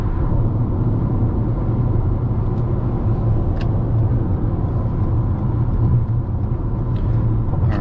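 A 2021 Toyota RAV4 XLE Premium speeding up onto a highway at night, a steady engine and road rumble heard from inside the cabin, droning evenly, with a few faint clicks.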